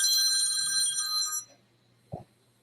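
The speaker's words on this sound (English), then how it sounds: "Sorry, I had a phone call." A telephone rings with a bright, sustained electronic bell tone that cuts off abruptly, leaving near silence broken by a single brief knock or click.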